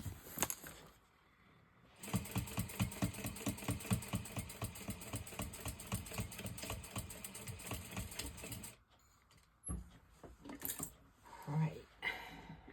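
Sewing machine stitching a crossbody bag closed, running in steady rapid bursts from about two to nine seconds, close and fairly loud, with quieter handling sounds and a brief voice before and after.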